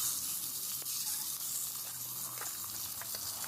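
Crushed garlic and shallots sizzle steadily in hot oil while being sautéed for crab rasam, a close, continuous hiss with a few faint clicks and stirring sounds.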